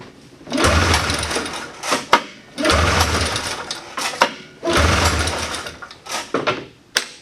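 A 1979 John Deere Cyclone 340 snowmobile engine cranks on half choke in three separate bursts, each a rapid, rattling mechanical churn up close, with brief pauses and clunks between attempts and no start.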